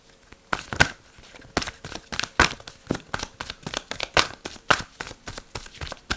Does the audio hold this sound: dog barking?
no